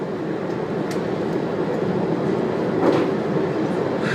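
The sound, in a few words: train at the platform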